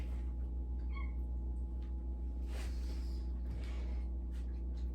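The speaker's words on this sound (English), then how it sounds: "Do you hear my kitties?" Short meows from cats, faint against a steady low background hum, coming once or twice across the stretch.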